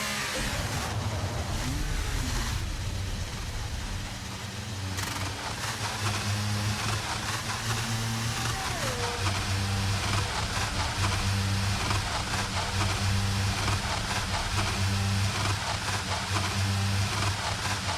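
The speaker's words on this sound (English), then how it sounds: "Come on, car, accelerate." A race car engine in the F1 23 racing game holds a steady, loud drone with its pitch rising and falling as it accelerates, running continuously for the whole stretch.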